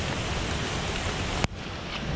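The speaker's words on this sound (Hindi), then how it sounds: "पानी की जो आवाज़ है ना कई घंटों तक हमारे कानों में गूंजने वाली है।" Water rushing at Devkund waterfall during the monsoon, a steady, dense roar that fills the scene and cuts off sharply near the end, leaving a quieter wash.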